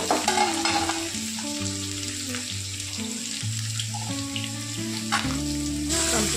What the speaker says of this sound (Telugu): ఆయిల్ వేడెక్కాక ఈ కాకరకాయలు అన్నీ వేసుకోవాలి.